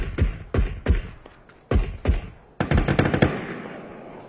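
Gunfire in a battle royale video game match, with sharp single shots and short bursts in irregular clusters, loud and close, then a faster rattling volley, with no talk over it.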